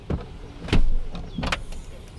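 A powered rear seat in a 2016 Mercedes-Benz GLS 400 moves back into place, several short motor whirs and mechanical clunks, close by and fairly loud.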